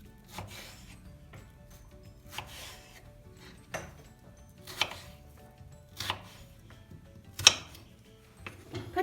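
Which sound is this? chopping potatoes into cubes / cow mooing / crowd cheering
chopping potatoes into cubes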